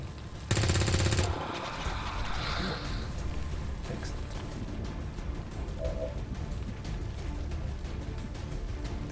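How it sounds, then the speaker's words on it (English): Soldiers open fire on a sectoid in the XCOM 2 video game, starting with a loud, sharp burst of gunfire that gives way to a rumbling, crackling game soundscape with scattered impacts. "so I'm gonna just take the shots at him."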